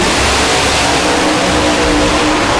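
Drag racing car at the NMCA All Star Nationals launching hard with the front wheels lifted, a loud, continuous roar of engine and broadband noise filling the whole moment with no voices.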